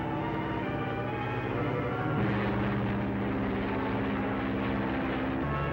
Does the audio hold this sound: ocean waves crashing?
no